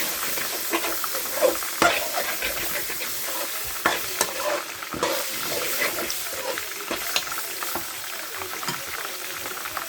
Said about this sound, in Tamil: கறியை போட்டுக்கலாம் நல்லா கிண்டி விட்டுக்கலாம்